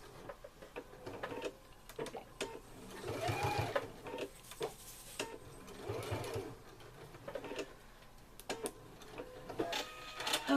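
Sewing machine stitching a fabric clothes pin bag, running in bursts with pauses, a steady mechanical whir and rapid needle ticking up close, stopping and starting several times.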